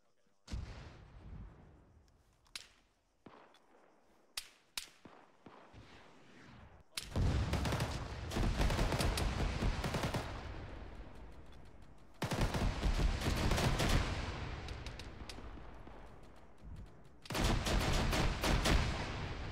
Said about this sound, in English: Okay, mortar's inbound.